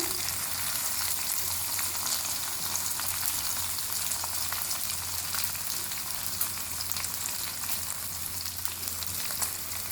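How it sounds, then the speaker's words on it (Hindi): Stuffed okra fries in half a cup of hot oil, giving a dense, continuous hissing sizzle that stays even and steady throughout, close by and fairly quiet, with no speech. "अब हम इसमें भिंडियाँ शामिल करेंगे। अब इसको फ्राई करेंगे।"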